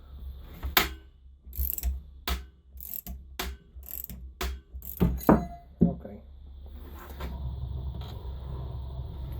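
Sharp cracking snaps ring out irregularly over a low mechanical hum as a bushing is pressed out of a 139QMB GY6 four-stroke scooter engine, several loud pops spaced a second or so apart, then quieter rumbling work noise.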